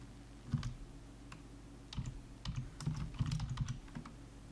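A computer keyboard is typed on in short bursts of quiet, close clicks, a name being entered into music recording software, over a low steady hum.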